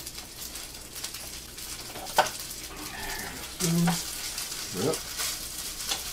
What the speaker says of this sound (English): you can hear it start to do that nice sizzling sound of frying